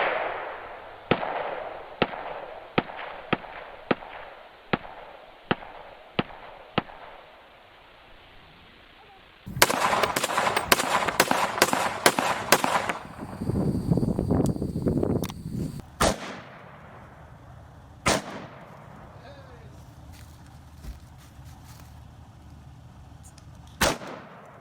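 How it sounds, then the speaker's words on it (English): AR-15 rifle fire outdoors, with a string of evenly spaced sharp cracks, then a dense burst of rapid loud shots, followed by a few isolated reports separated by long gaps. "Alright, now this is my first time shooting the AR-15."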